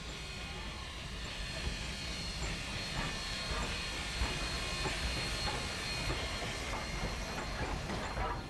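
A coal-fired steam train on the Glenbrook Vintage Railway rumbles along steadily up a grade with a continuous hiss and rhythmic rail clatter, loud and close throughout.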